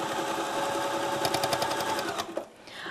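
A quilting machine stitches through a quilt with a fast, steady mechanical chatter that runs close and loud for a couple of seconds before slowing to a stop, with no voices.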